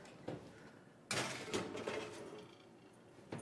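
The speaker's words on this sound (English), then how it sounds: "I'll go ahead and put this one in the oven" A cauliflower-crust pizza goes into a home kitchen oven with a faint clatter of a pan and the oven door, one sharper bump followed by a short rattle and then quiet.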